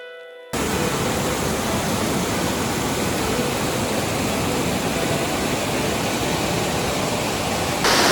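Milky waterfall near Lake Ritsa in the Abkhazian mountains, heard as a steady, dense roar of rushing water that stays loud and broadband throughout with no voices.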